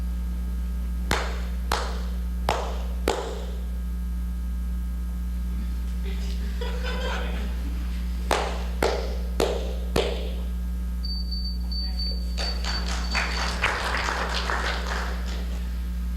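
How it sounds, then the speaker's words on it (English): Sharp hand claps in a quiet room, meant to trigger a clap-activated gadget: several distinct, evenly spaced claps repeat in short groups, with a brief electronic beep and some rustling and low murmur in between. "Just clap 4 times."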